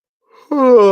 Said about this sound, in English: I don't know why I'm yawning all of a sudden.